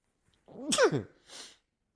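A single sharp sneeze close up, with a quick inhale before it and a brief breathy exhale after, in an otherwise quiet room.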